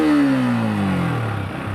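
Yamaha MT-15 motorcycle engine revving close by, a single rev whose pitch sweeps steadily downward as it settles toward idle, with no talk.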